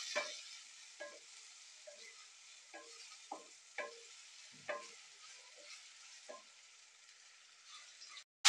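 Onions with tomato paste fry gently in a pan for Punjabi-style chole, a faint low sizzle broken by a series of distinct spoon taps and scrapes, ending with a sudden louder bang.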